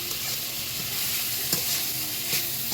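Vegetables for noodles, seasoned with black pepper, sizzle steadily in a pan, a constant close frying hiss with a few soft stirring knocks.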